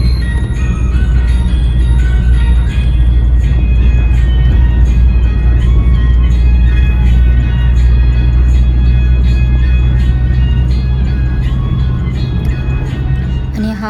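Steady car engine and road rumble while driving along the Pune–Nashik highway early in the morning, a continuous loud drone with tonal music-like lines over it throughout.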